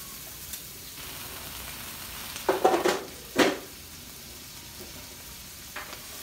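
Southwest corn stirred and frying on a Blackstone flat top griddle: a low steady sizzle throughout, broken by a couple of louder scraping stir bursts near the middle and a faint clink toward the end.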